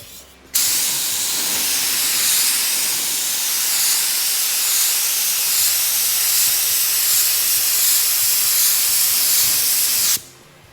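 Spray gun laying down a second paint coat on a fiberglass repair, a loud steady hiss that starts abruptly, runs unbroken for about ten seconds with slight surges, then cuts off sharply.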